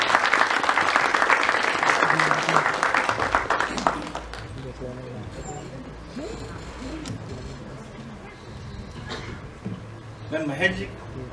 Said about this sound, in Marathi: त्यामुळे टाळ्या जोरदार झाल्या पाहिजेत त्यांच्या स्टेजवर येईपर्यंत